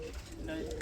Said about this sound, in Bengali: একদম ইয়াং কবুতর